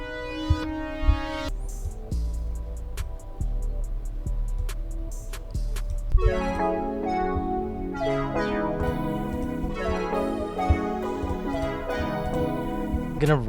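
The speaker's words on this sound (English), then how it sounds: "I put the stretched version in with the original one and it sounds like this." Layered synth loop made in Hive, a stretched and reversed version of a sound stacked with the original, with deep bass tones, sustained pad chords and sharp clicky accents, steady and fairly loud with no talking.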